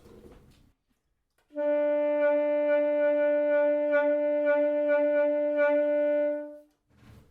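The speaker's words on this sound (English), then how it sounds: "choppy, jagged, uneven waves that are going to sound like this" A single sustained saxophone note held for several seconds, its pitch wobbling in irregular, lumpy pulses rather than smooth waves.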